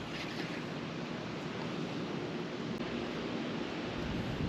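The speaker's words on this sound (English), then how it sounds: "It's a little breezy today." Steady wind blowing across a dock by the water in winter, a broad continuous rushing roar with buffeting against the microphone, constant and fairly loud with no voices.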